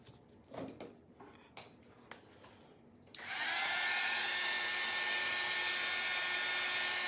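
A hair dryer switches on after a few soft handling knocks and then blows steadily with a loud, even whoosh while drying a painted craft door hanger.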